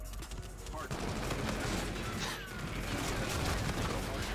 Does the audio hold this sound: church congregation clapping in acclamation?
no